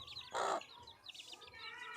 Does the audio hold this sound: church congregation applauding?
no